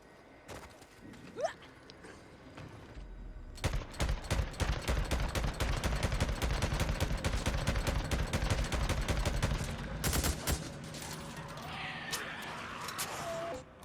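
Sustained bursts of automatic gunfire as zombie hordes are shot in the video game Days Gone, loud and continuous for several seconds with scattered single shots before and after, no talking.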